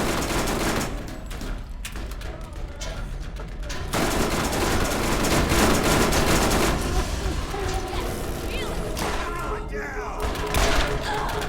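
Hemo grenade explosions in Borderlands rolling through a chaotic firefight, with thumping blasts and rapid gunfire in a steady loud wash that swells around the middle.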